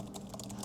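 Fingers type on an Apple Magic Keyboard attached to an iPad, a quick run of soft, close key taps over a faint background hum.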